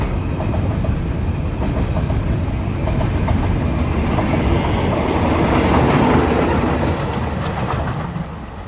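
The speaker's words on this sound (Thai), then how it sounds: "เสียงที่ได้ยินนี้จะเป็น เสียงรถจักรของขบวน" A heavy locomotive hauling freight wagons uphill through a mountain pass drones loudly and continuously at full power, with rhythmic clattering of rail wagons rolling past close by.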